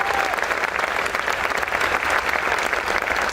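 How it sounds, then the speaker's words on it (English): A crowd at a President Biden event in New Mexico breaks into loud, dense applause that holds steady for a few seconds without pause. "Can you give a round of applause for that?"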